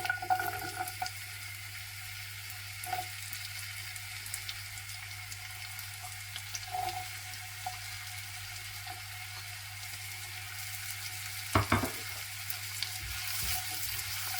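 Finely chopped onion fries in butter in a pan, giving a steady, close sizzle throughout with occasional soft stirring clatters, and no voices.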